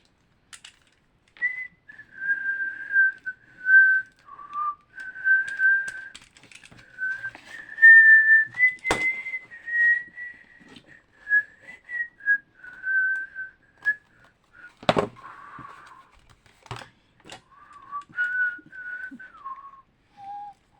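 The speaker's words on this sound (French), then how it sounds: "je siffle comme je chante" A person whistles a meandering tune alone, holding and sliding between notes in short phrases, with a few sharp clicks and knocks nearby.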